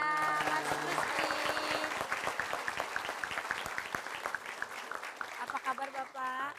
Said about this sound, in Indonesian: Sekali lagi boleh tepuk tangan